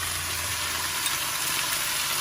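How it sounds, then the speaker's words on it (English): Chili paste for a Thai pork stir-fry (pad ped moo) frying in a pan, a steady dense sizzle that holds evenly at close range throughout with no voices. "it always needs to have a bit of frying chili paste"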